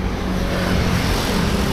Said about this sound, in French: Et en même temps, on roule la moto.